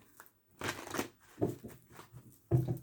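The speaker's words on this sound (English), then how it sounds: "One more shuffle." Tarot cards being shuffled by hand: several quick papery riffling bursts, close and fairly soft, separated by short pauses.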